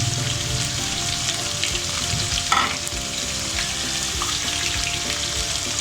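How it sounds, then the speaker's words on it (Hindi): Dried red chillies and spices frying in oil crackle and spit in a dense, busy sizzle up close, with stirring scrapes and a brief louder burst of spattering midway. "लाल मिर्च थी, सूखी लाल मिर्च, ये डाल दूँगी।"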